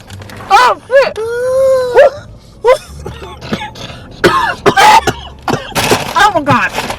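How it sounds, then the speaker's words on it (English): A person coughs over someone's food in a few sharp, close bursts, mixed in among loud startled exclamations and shouting. "You just coughed in my fucking mouth!"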